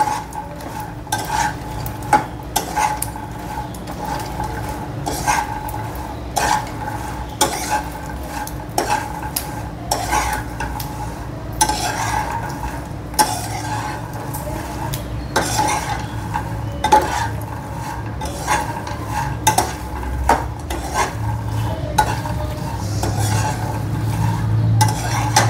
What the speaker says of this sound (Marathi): आता आपण हे पहिल्या लॉटचे थंड झालेले ह्याच्यात घालूया आणि व्यवस्थित परतून घेऊया